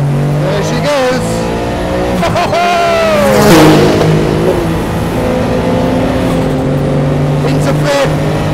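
A Porsche 962 Le Mans race car screams through the gears on track, revs climbing and dropping sharply at each shift, loud and close, with someone talking over the engine noise.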